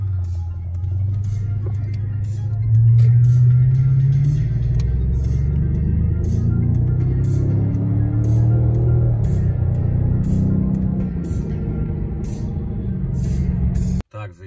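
Steady low rumble of a Lexus LS 460 Long being driven, the engine and road noise swelling briefly around the third second, then droning on evenly before cutting off at the end.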